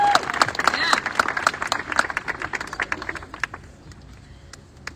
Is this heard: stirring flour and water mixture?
no